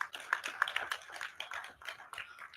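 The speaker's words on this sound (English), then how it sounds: "Please, another round of applause for John." A panel audience at the ICASA 2025 conference claps for a speaker, with brief, fairly faint, scattered applause from a crowd that thins out after a couple of seconds.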